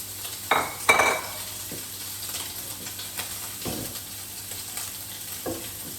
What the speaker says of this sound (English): Some fantastic colour on that bacon. Already starting to go nice and crispy.